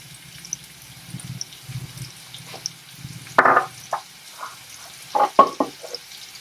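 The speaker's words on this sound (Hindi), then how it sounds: "थोड़ा सा गरम होने पर इसमें हम प्याज डालेंगे, लंबे लंबे कटे हुए।" Long-sliced onions hit hot oil in a pan, giving soft sizzling and frying with a few louder scraping stirs of a ladle, fairly quiet and close.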